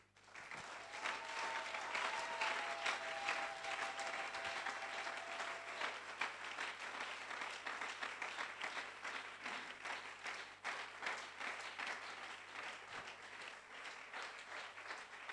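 Church congregation applauding and acclaiming during a sermon, sustained crowd clapping with whistles and cheering voices, fairly distant and steady over about fifteen seconds.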